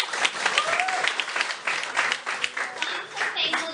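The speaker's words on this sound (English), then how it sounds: "can we give him a round of applause, please?" Classroom applause for an advisor during a debate class, a brief burst of many hands clapping at moderate volume, with some voices mixed in.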